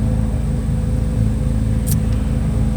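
A Chevrolet Corvette C8 Z06 idles with a deep, steady V8 rumble after being switched into a louder drive mode, a continuous throaty drone heard close up with a brief high click partway through.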